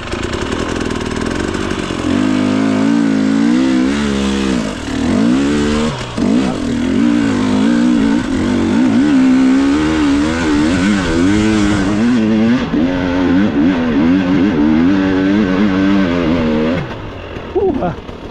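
A tuned motorbike engine revs hard in first gear, then climbs again after a shift into second, its pitch sweeping up and down loud and close throughout, with someone talking over it.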